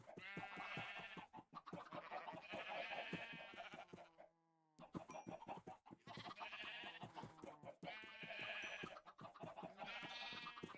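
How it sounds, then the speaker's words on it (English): Many sheep bleat in a Minecraft world, a dense, overlapping chorus of nasal calls that carries on almost without pause, with one brief quiet gap in the middle. "Oh my god, all these sheep."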